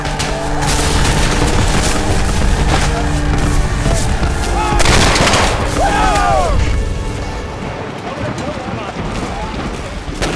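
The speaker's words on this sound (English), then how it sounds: "Brigadier General Daniel Rebel pounds the Hornet's Nest with almost 60 cannon" Civil War artillery and gunfire at the Battle of Shiloh, with massed cannon pounding the Hornet's Nest: dense, rolling booms and crackling volleys overlap loudly and continuously, then ease a little, with a narrating voice over them.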